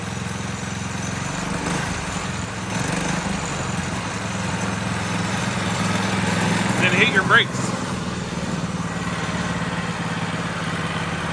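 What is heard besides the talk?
motorcycle engine idling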